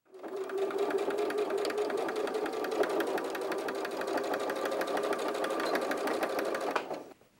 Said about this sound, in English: take that over to the sewing machine